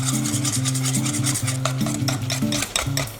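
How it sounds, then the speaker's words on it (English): Pancake batter with vanilla, ginger and cinnamon is whisked briskly in a bowl, giving rapid rhythmic scraping strokes up close, with a steady tonal hum running underneath. "Then I whisk this all together."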